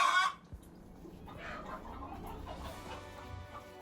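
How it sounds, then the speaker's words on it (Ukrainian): Hen of a blue-egg-laying breed on a garden plot, a brief sharp squawk at the start followed by quieter clucks and faint farmyard background noise. "Курочка якої несе блакитні яйця."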